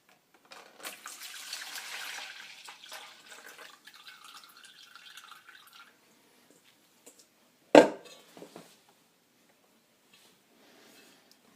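Liquid buttermilk pours and drips from a bowl of freshly churned homemade butter, a steady trickling splash for several seconds that thins to scattered drips, then one sharp knock near the end before near silence.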